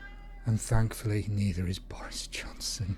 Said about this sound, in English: Please excuse my cat if you can hear it.